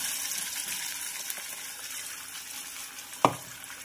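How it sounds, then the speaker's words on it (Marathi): Drumstick (moringa) soup mixture sautéing in a spoonful of oil in a pot gives a soft, steady sizzle throughout, with one sharp clack of a utensil near the end. "हे सगळं मिश्रण घालून छानपैकी आपल्याला असं परतून घ्यायचं आहे।"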